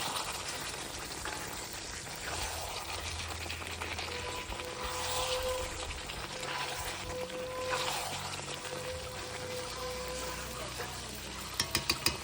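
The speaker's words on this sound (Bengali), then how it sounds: "এবার আমি আলুটা দিয়ে দিচ্ছি আলু আর মাংস একসঙ্গে কষানো হয়ে যাবে" Mutton and potatoes sautéing together in a pan for goat-meat biryani, a steady low sizzle and frying hiss throughout with occasional stirring clatter and a few sharp taps near the end, no talking.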